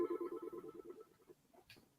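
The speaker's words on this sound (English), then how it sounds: "know I had a phone call come in." A telephone rings with an incoming call, a short electronic trill repeating quickly then fading out, faint and alone, ending in a brief higher chirp.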